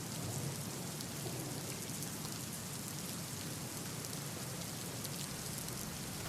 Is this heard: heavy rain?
yes